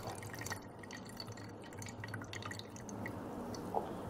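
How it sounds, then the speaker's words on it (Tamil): Water drips and trickles off boiled raw banana as it drains, a faint, steady patter with a few soft drops close by and no talk. "தண்ணி வடிக்கிட்டாச்சு."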